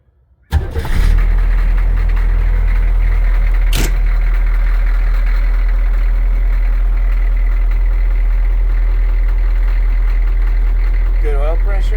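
A Humvee HMMWV M1152A2 diesel cranks and catches after a short silence, then settles into a loud, steady low idle with a constant throb throughout, close to the microphone, with a faint squeak near the end.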